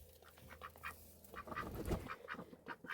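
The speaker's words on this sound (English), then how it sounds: "Ducks for everyone." Several ducks quacking in a rapid, overlapping series of nasal calls, fairly faint and steady with no talking.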